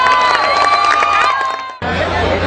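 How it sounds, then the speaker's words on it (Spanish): A crowd at an outdoor food festival celebration claps and cheers loudly alone, a dense wash of applause and shouts that cuts abruptly and resumes. "¡Un aplauso a ellos!"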